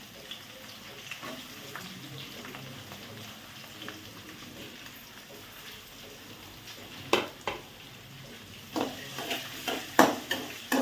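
Potatoes and green chillies being fried in a pan for paneer fried rice, a soft constant sizzle with occasional louder scrapes and stirring clatters toward the end.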